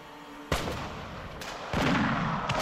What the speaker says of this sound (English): The other soldiers let loose a fusillade of musket fire.